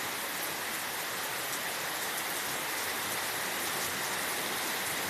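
Steady, even rainfall over a cornfield with a dense broadband hiss, continuous throughout, no wind gusts and no voices.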